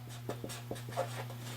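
A pencil scratches on paper in short, faint strokes, several quick marks over a low steady hum, with no one speaking.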